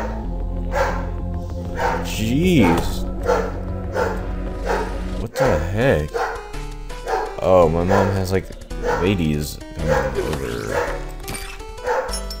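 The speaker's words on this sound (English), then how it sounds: "That's my dog just going apeshit." A dog barks excitedly indoors in repeated yips and howling barks through most of the stretch, loud and close. A person talks over it in bursts.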